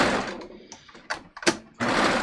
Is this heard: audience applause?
no